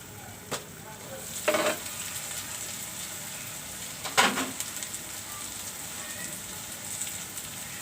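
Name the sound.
small baim eel fish frying in a covered pan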